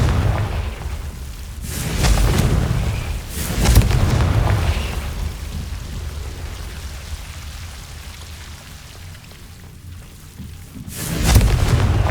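Confringo blasting spells exploding in Hogwarts Legacy, several loud booming blasts spaced a few seconds apart with a rumbling, crackling tail between them, no voices.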